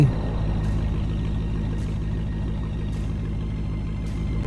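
A truck engine idles in a shawarma shop video game, a steady low rumble running throughout with faint periodic clicks over it, no voices.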